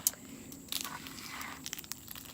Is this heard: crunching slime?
yes